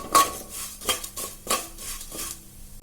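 Dry vermicelli fried and stirred in a pan gives a series of close metallic scrapes and clinks from a utensil, about five strokes in an uneven rhythm.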